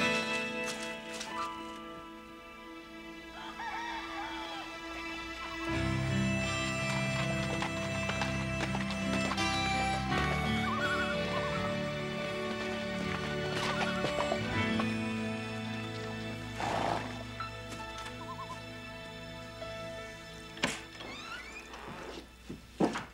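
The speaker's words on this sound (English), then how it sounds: "Otto, saddle up the horses." Horses whinny and their hooves clip-clop in a western TV drama, with repeated neighs and hoof beats over a busy music score that run for the whole stretch, and a few knocks near the end.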